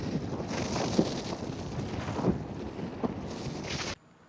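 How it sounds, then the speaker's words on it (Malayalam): Strong wind on the Old Man of Storr hike buffets the microphone in a continuous low roar with gusty surges, then cuts off abruptly near the end. "ഭയങ്കര കാറ്റ്"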